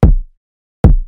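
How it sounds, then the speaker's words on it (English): Two punchy, distorted kick drum hits from an FL Studio beat in an 808 style, each a boomy thump with a short decay, spaced under a second apart and heard alone. "my kick is cranked up, you know, it's distorting because this is the style I was going for."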